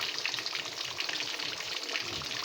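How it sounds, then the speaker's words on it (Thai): Tilapia fries in hot, spattering oil, giving a dense, continuous crackling sizzle with tiny pops throughout, close and steady, with no voices. "ได้ยินเสียงน้ำมัน กระเด็นแตะแตะแตะแตะ่งั้น โอ้โห นี่ไง ปลาเล่นทอด"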